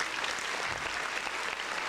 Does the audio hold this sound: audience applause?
yes